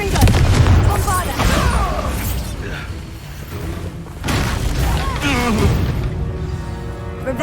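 Spell explosions from Bombarda and Confringo in Hogwarts Legacy boom loudly in rapid succession, dense blasts filling the whole clip as a character shouts over them.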